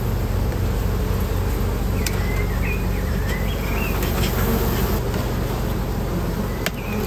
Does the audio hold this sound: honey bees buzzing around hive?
yes